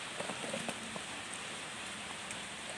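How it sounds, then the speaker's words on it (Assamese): Rain falls on a garden during the rainy season, a steady, even hiss of drops running for a few seconds with no voices over it. "চাওকচোন ইমান ধুনীয়াকৈ যে বৰষুণ পৰি আছে, বহুত ধুনীয়াকৈ বৰষুণ পৰি আছে।"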